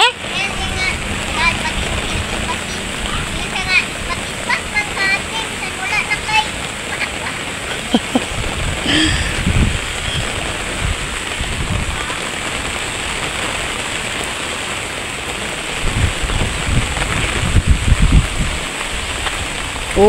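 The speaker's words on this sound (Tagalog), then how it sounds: "Kusog ang ulan." Steady heavy rain pours down, hissing and splattering on nearby surfaces, with voices and occasional quacking-like calls mixed under the downpour.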